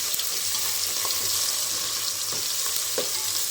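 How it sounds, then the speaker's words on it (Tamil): Washed leaves sautéing in hot oil in a pan while making chicken biryani, giving a steady, close crackling sizzle throughout, with a few sharper pops and stirring scrapes. "அதையும் போட்டு நல்லா வதக்கிக்கணும்."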